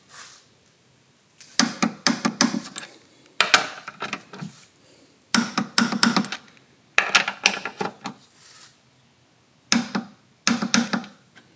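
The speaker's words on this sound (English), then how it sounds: "now I'm going to torque them down. They torque to 43 foot-pounds." Ratcheting torque wrench tightening the front strut nuts on a Mazda 6 to 43 foot-pounds: five or six close bursts of rapid mechanical clicking, each a second or two long, separated by short pauses, with no talk.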